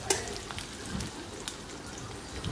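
Chopped onion frying in oil for a pumpkin bhaji, a short, steady crackling sizzle with a few sharp little pops, at a moderate level.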